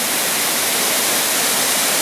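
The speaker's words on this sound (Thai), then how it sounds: "น้ำตกผาช่วงก็เป็นอย่างนี้" Mak Ngaeo waterfall roars as a dense, constant rush of falling water, loud and close, with no voices.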